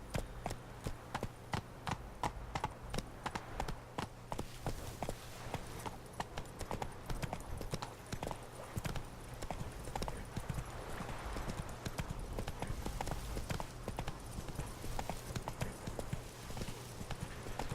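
Roach, a horse in The Witcher 3, gallops with steady rhythmic hoofbeats at close range, a continuous clip-clop that runs the whole stretch over a low background hum, with no talk.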